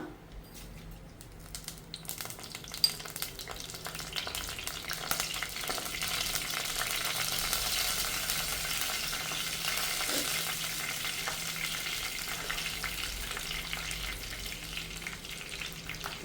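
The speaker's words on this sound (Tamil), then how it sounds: "எண்ணெய் நல்லா காஞ்ச பிறகு கொஞ்சம் ஜீரகம், கொஞ்சம் வெந்தயம் போட்டுக்கோங்க." Cumin and fenugreek seeds fry in hot oil for a seabass fish curry, a bright crackling sizzle that swells after a quieter start and holds steady at close range, with faint occasional stirring.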